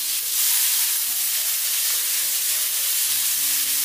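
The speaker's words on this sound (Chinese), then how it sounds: "炒香以后再把肉末给倒进来，继续给它煸炒，将肉末给它炒散" Minced meat being stir-fried in a wok with ginger and garlic over medium-low heat makes a loud, even hiss of oil that runs continuously without pause, with a faint low hum underneath.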